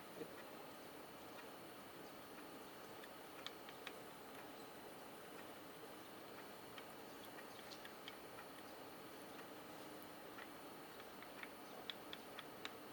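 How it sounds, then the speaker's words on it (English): A wall clock ticks faintly in a quiet room, its soft irregular clicks barely rising above a steady low hum. "Clock ticking."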